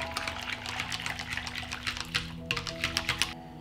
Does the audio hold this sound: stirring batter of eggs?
yes